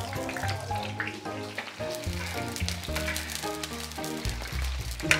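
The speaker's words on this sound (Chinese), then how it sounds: "锅里放一点油，现在把大葱跟洋葱放上去炸一下" Scallions and onions fry in hot oil in a pan, giving a steady, close sizzle that crackles throughout without pause.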